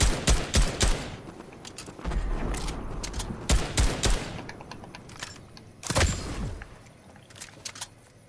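Gunfire in a first-person shooter video game: sharp bursts of rapid shots in short clusters, loud and close, then a final volley and quieter game background.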